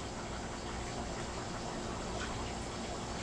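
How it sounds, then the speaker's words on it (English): Deer burgers fry in a frying pan filled with plenty of grease, giving a dense, steady bubbling and crackling. It is close and constant for the whole short stretch, with no voices. "Hear that bubbling?"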